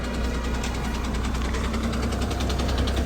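A bus engine idles with a steady low rumble and a faint rhythmic knock at the Lingasaguru bus stand at night, loud and close, with no talk.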